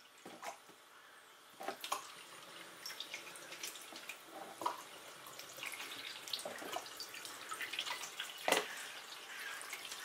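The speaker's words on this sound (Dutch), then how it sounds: "Dan gaan we water maar aanmaken." Water runs and drips from a tap in a quiet room, a faint steady trickle with scattered splashy drips and occasional louder spatters.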